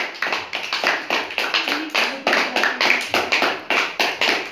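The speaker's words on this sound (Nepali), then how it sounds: "हामी ताली बजाउने छौँ सबैजनाले।" A group claps at a birthday celebration with a cake-cutting, producing a steady rhythmic beat of about three claps per second, nearby and fairly loud, with no talk heard.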